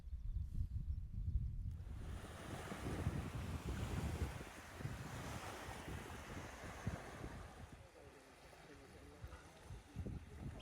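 Steady surf and gusting wind at a beach on the Llŷn Peninsula, a broad continuous wash of breaking waves with low rumbling wind buffeting the microphone, fairly loud throughout.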